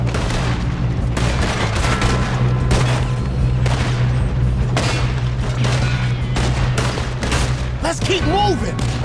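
Sustained gunfight in Red Dead Redemption 2, with dense, overlapping bursts of gunshots and booms over steady game music, plus occasional shouting voices.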